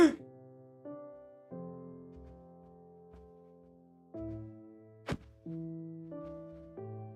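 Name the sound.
fist hitting entity causing small explosion in video game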